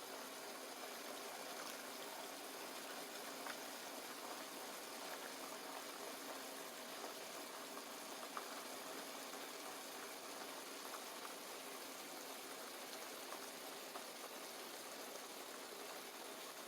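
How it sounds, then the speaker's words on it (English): Melted homemade skateboard wax poured from a container into a mold, heard as a steady, soft liquid trickle with a constant broadband hiss throughout, no talking. "next you're just going to want to equally divvy out the contents of your liquid into your mold that you have"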